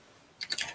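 A few quick keystrokes clatter on a computer keyboard in a short burst after a moment of quiet, close and fairly crisp.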